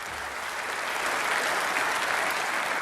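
Sustained applause from a party conference audience at a Liz Truss speech, a dense, steady wash of many hands clapping that swells slightly midway and carries on without pause.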